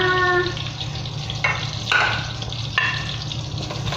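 Fresh cooking oil sizzles in a pan as sautéing begins for chicken curry, a steady frying hiss with a few short clanks and scraping bursts of stirring, under a brief tonal sound at the start.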